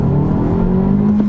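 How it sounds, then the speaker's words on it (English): A 2022 Honda Civic Sport Touring hatchback with a manual gearbox accelerates hard, its engine note loud, close and steadily rising through a short, continuous pull. "And we'll do another acceleration."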